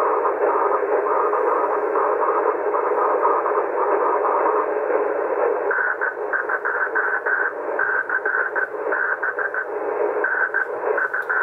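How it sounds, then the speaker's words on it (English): Amateur 2 meter radio signals propagated by aurora play through the transceiver as a continuous loud, raspy hiss-like buzz, with the character shifting partway through into a choppier, pulsing tone; no one speaks. "I will point the camera at the rig, and you can listen along as I work some people on 2 meter aurora"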